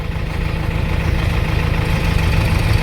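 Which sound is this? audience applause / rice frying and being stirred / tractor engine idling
tractor engine idling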